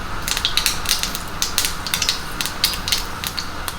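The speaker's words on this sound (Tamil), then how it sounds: "கடுகு பொரியுது" Mustard seeds splutter and pop in hot oil in a pan, a dense, continuous crackle of rapid sharp pops that stays close and fairly loud, with no talking.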